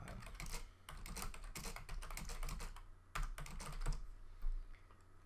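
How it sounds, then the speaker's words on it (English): Rapid typing on a computer keyboard, with dense bursts of key clicks and short pauses between runs, close and clear with no talking. "So I can type whatever I want."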